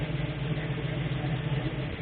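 A 1969 AMC AMX with a tweaked carburetor and set timing runs at a steady idle, giving a continuous low engine rumble with an even, unchanging tone and no voices over it.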